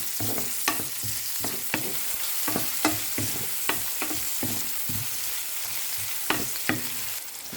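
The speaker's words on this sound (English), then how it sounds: "In a heated pan with vegetable oil, let's sauté the garlic and onion at the same time" Garlic and onion sauté in hot vegetable oil in a pan, with a steady sizzle broken by repeated sharp scrapes and clacks of stirring.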